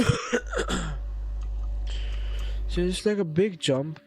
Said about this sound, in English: that's my cat coughing